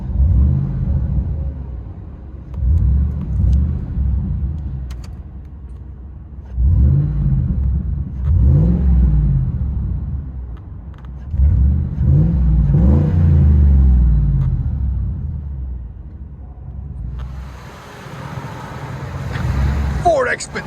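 A straight-piped 5.4L V8 Ford Expedition, an ex-Oklahoma State Trooper vehicle with muffler and resonator deleted, heard from inside the cabin as deep exhaust drone rises and falls through several revs and accelerations, with voices talking over it.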